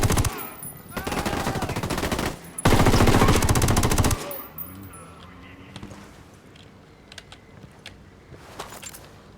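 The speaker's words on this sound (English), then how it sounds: "I'm gonna have to go to the heavy machine gun" Heavy machine gun fire bursts loudly in Ghost Recon Wildlands, rapid dense rounds for a few seconds, then fading into quieter scattered in-game sounds and distant shots.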